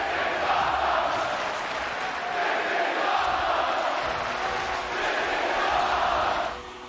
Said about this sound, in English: James heard the crowd getting hyped